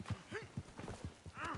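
Horse hooves in Red Dead Redemption 2, a quick, quiet run of rhythmic clip-clop steps over little more than a second and a half.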